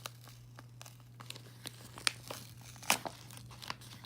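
Paper crinkling as a mail envelope is opened by hand, with small soft rustles and a couple of sharper tearing crackles, close and quiet, without talk.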